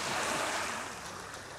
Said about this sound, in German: Schön fett am Meer.